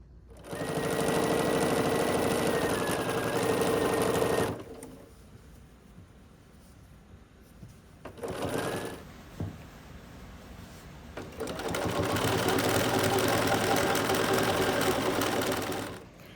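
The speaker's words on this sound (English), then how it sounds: "So I'm going to work on quilting this now" A sewing machine quilts a small 'Love Is' mini quilt, running loud and close in a long steady burst, pausing with a brief whir, then stitching again in another sustained run.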